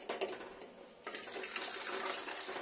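Milk poured into a mixing bowl of sago, sugar and dry fruits, a steady liquid gush that stops briefly and then resumes, close and moderately loud with no talk.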